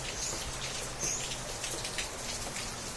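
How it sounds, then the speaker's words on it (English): Steady rain falls outside, a dense, even hiss of drops close by with small patters on a surface, no voices. "So, it was really raining here."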